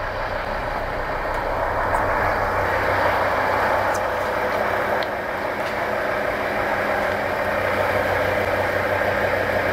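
A car engine idles steadily and close by, an even, continuous rumble with a few faint high clicks on top and no voices.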